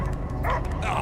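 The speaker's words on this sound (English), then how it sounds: "I hear only barking." Dogs bark and yip in a sci-fi action video game, a few quick close barks and whimpers with a faint voice underneath.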